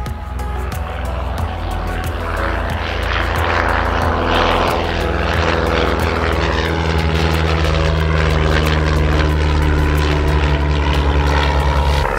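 A loud, continuous engine of a small Wittman Tailwind propeller airplane drones close by during takeoff, steady and powerful throughout.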